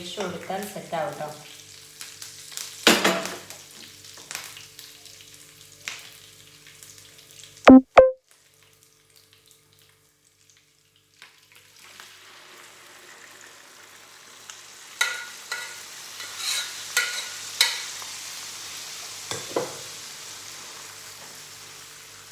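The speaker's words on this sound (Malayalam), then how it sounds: "നമ്മുടെ ബീഫും കൂടെ ഒന്ന് അതിൽ ഒഴിച്ചു കൊടുത്താൽ സെറ്റാവും കേട്ടോ." Beef frying in a pan, giving a soft sizzle with intermittent stirring clatter, a couple of sharp metallic knocks midway, a brief quiet stretch, then a renewed, stronger sizzle with spoon scrapes.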